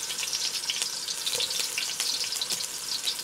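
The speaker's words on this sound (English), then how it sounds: "Then I'm going to stir. Cook a little and then add meat." Red, yellow and green onions sizzle steadily in a hot pan while being stirred for Mongolian beef, a continuous close frying hiss with faint scraping from the stirring and no voices.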